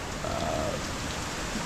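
Heavy rain pours steadily in Pakistan, a dense, even hiss of falling water that stays constant throughout with no voices.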